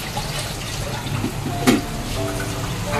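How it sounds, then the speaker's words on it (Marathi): Fresh prawns frying in a home kitchen pan with a little water added, a steady sizzle and hiss throughout with one brief louder splash or stir near the middle. "हा सिजल."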